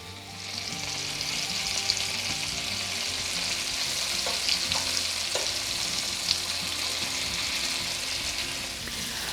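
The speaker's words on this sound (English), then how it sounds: "we're going to just brown both sides and then layer in a pan" Cube steak frying in a pan, a dense steady sizzle and crackle with occasional light scrapes and taps, close and continuous throughout.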